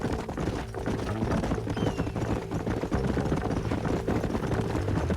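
Horses from the Red Dead Redemption video game gallop along, hooves clip-clopping in a quick continuous rhythm over a low rumbling background.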